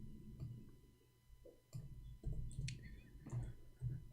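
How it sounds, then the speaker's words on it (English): Typing on a computer keyboard, faint, irregular clicks and taps in short bursts with pauses between them, set against a quiet, low room hum. "I'm typing in English again."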